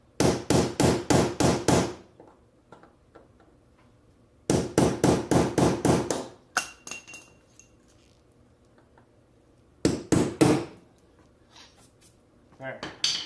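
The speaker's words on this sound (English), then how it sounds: "you grab a little bit broader head punch, slowly tap it off" A hammer taps a broad-headed punch to drive out a rivet on a jet boat, sounding as sharp metallic clinks in rapid runs of about half a dozen blows, separated by quiet pauses and a shorter final flurry.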